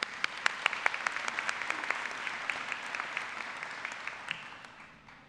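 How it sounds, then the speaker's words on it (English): Graduation audience at a 2009 high school ceremony applauding the teachers: a broad, distant patter of many clapping hands with a few sharper claps up front, holding steady and then gradually tapering off. "And also a round of applause for the teachers."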